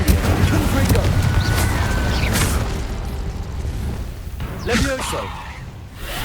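Incendio and Confrigo spell blasts in the video game Hogwarts Legacy land as a dense run of booming, crackling bursts against busy game sound, with a sharp impact near the end.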